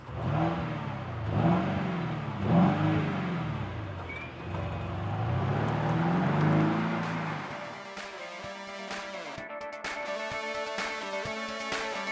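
Mercedes GLS V8 SUV driving and accelerating, a mid-pitched engine note rising and falling through several revs before settling into a steadier cruising hum.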